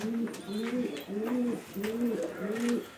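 Carrier pigeons coo at their nests built from bricks, five rhythmic, regularly spaced coos repeating close by with faint background noise.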